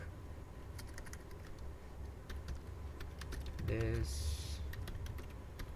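Fingers type rapidly on a computer keyboard while entering text in a Linux command-line text editor, giving close, crisp irregular clicks, with a brief spoken word heard partway through.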